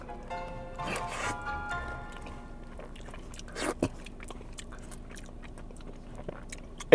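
Close-up biting and chewing of a Crumbl key lime pie, moist squishing mouth sounds with a few sharper crunchy bites and small clicks, quiet and intimate with no speech.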